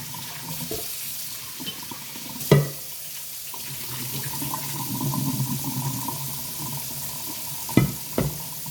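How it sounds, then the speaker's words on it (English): Pasta pot rinsed under a running kitchen faucet, a steady stream of water splashing into the metal pot with a couple of sharp knocks as it is handled. "I rinse out my pot"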